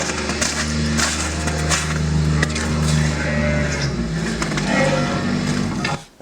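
A tractor engine chugs steadily at close range in snow, a low droning rumble that holds for several seconds before cutting off abruptly.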